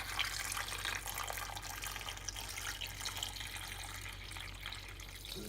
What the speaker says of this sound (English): I'm going to fill up my pot so that it's covering the chicken with water